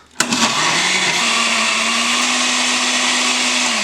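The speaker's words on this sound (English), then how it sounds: "Now we're gonna blend." A kitchen blender motor starts abruptly and runs steadily at a loud, constant whine, chopping cut chard leaves in a cup of water, close up with no talking.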